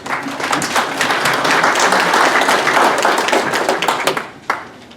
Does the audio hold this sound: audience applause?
yes